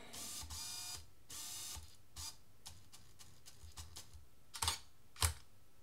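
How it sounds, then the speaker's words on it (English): A Canon DSLR driven by a JJC S remote controller gives a couple of brief whirring focus bursts, then a few faint clicks and two sharp shutter snaps near the end, close by with no talking. "so you use your half shutter to focus"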